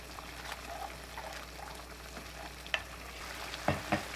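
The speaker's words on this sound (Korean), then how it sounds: "보글보글 끓기 시작하면 떡을 넣어줍니다." Tomato and mussel sauce with chili paste and rice cakes simmers in a pan with a faint, soft bubbling sizzle, broken by a few light clinks and stirring taps near the end.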